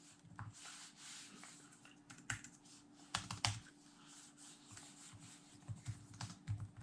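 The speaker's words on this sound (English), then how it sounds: "Feels pretty good to type on." Soft, irregular clicks of someone typing on a backlit Dell 7000 13-inch 2-in-1 laptop keyboard, close and quiet, with occasional louder taps over faint background hum.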